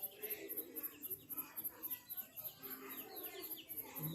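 Chickens clucking and chirping in short irregular bursts in a home setting, moderately close against a steady background hum, with no talk over them.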